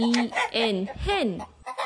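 A hen clucks in a quick series of rising, nasal calls, close and clear, ending in a short pause with faint rustling.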